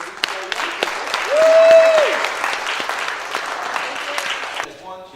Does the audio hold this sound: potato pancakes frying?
no